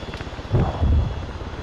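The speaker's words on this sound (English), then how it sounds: "we've got a helicopter inbound on the city" A Hellcat helicopter in the game Arma 3 flies in over a city, a low rotor and engine rumble that swells in the middle and then settles to a steady drone.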